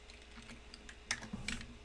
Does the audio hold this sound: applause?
no